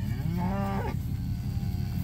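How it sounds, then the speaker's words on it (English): A single cow moos loudly and close by in a pasture herd, a drawn-out low call of just under a second that rises and breaks off, followed by quiet outdoor background. "Show you guys this cow herd."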